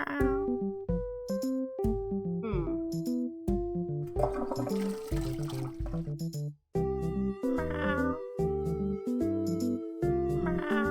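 Cartoonish cat meows from a video game, repeated over and over in a steady run of short melodic calls set against constant game music, with one brief silent gap partway through.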